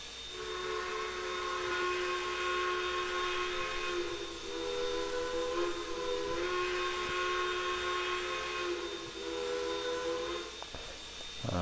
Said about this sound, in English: So number 110 does have its own whistle.